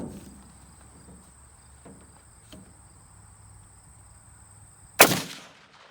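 Single sharp rifle shot from an SKS firing 7.62x39 mm at a British Mk7 Kevlar helmet about 100 yards away, a loud crack with a short decaying echo after quiet outdoor ambience with insects.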